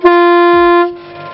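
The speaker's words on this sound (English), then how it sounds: "train horn" A train horn fitted to a Toyota Tundra blares in one loud, steady, brassy tone lasting under a second, then cuts off abruptly into a faint rumble.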